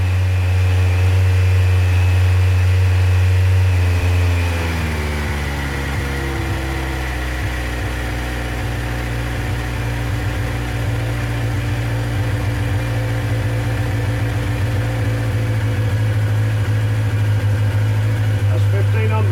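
A Yamaha XJR1300 motorcycle with freshly overhauled carburettors and new inlet rubbers warms up on choke, its engine running at a steady fast idle close by, the pitch dropping slightly early on and then holding.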